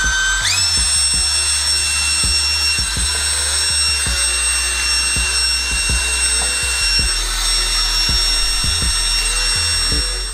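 A portable battery-powered electric air pump switches on and keeps blowing: a whining motor tone that rises at start-up over a constant loud rush of air, close and steady, with faint clicks in the background.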